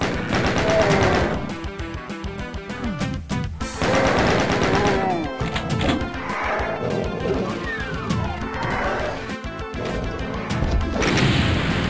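Doom 2 gameplay with loud, dense gunfire: rapid repeated shots and heavy crashing impacts fill the whole stretch, broken by brief whooshes, with no pauses.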